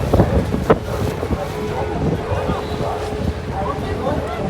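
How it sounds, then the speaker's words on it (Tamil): Strong wind buffeting the microphone on a Seine sightseeing boat in Paris, gusty rumbling noise with faint water and engine sounds, a voice talking intermittently underneath. "பயங்கரமாக காத்தடிக்குது."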